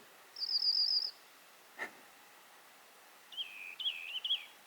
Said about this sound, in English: Got a little bird here that keeps calling at me.